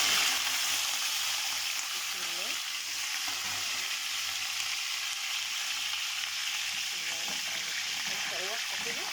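Liver pieces sizzle and crackle in hot oil in a pan, a loud continuous hiss with occasional stirring, while a voice speaks faintly over it.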